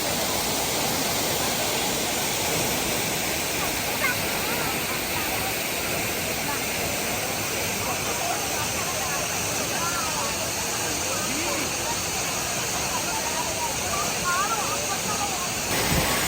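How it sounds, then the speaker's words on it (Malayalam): Thusharagiri waterfall in Kerala, a site of three falls including Erattumukku and Mazhavillu, roars with a dense, steady rush of falling water. The sound stays loud and even throughout, with no break. "ഈരാറ്റുമുക്ക് മഴവില്ല് വെള്ളച്ചാട്ടം തുമ്പിതുള്ളും പാറ എന്നിങ്ങനെ മൂന്ന് വെള്ളച്ചാട്ടങ്ങളാണ് തുഷാരഗിരിയിൽ ഉള്ളത്"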